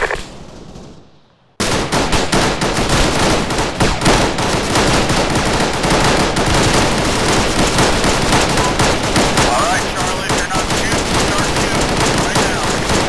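Heavy video game gunfire erupts after a brief quiet stretch. Loud, dense automatic bursts and overlapping shots continue nonstop for over ten seconds.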